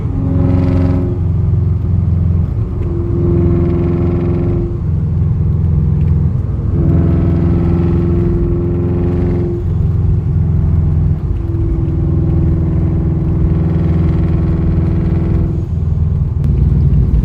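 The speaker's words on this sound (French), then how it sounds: "Ça souffle bien, c'est un bon son, c'est parfait." Turbocharged Subaru engine with original exhaust and manual, non-electronic tuning, loud and close, idling with a deep rumble and rising in several repeated revs that climb and fall back, with no talk over it.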